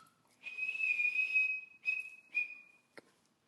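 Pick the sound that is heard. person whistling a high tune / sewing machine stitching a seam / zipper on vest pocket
person whistling a high tune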